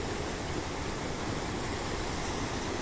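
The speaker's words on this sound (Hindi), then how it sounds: "पानी का साउंड सुनो आप" Floodwater of a river in Dehradun after a cloudburst rushes in a loud, continuous, broadband roar, steady and close with no pauses.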